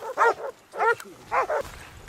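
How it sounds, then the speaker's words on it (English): Hunting dogs bark and yelp during a wild boar hunt, three or four loud, close barks in quick succession with short whimpering gaps. "the hunting dogs give chase and bark loudly to alert the hunters"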